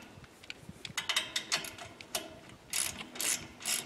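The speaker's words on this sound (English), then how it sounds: "then you can tighten up these bolts that we've started in to join this two halves of the suspension together." Bolts being tightened to join two halves of a vehicle suspension, a near series of quick ratcheting clicks in short irregular bursts, quiet and without talk.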